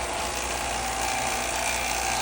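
A vacuum pump runs steadily on a furnace job, a continuous mechanical whir and hum holding an even level throughout with no talk over it.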